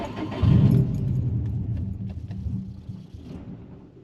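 A Subaru WRX engine cranks and catches, its low rumble loud at first and then settling into a steady idle, with a faint jangle of keys over it.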